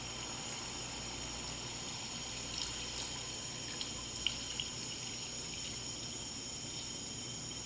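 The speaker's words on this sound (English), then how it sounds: "Now to that, we're going to go ahead and add our 4 cups of half and half." Half and half is poured steadily into a wine sauce in a cooking pot, a low continuous liquid rush with no talking.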